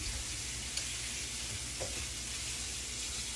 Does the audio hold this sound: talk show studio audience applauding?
no